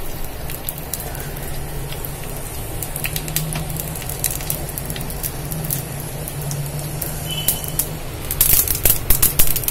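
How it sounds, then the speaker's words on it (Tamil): Half a teaspoon of mustard seeds popping in a spoonful of hot oil while tempering a chickpea and drumstick kara kuzhambu: close, irregular crackles and sputters over a low hiss, growing sharper and busier toward the end. "கடுகு வெடிச்சிருச்சுப்பா."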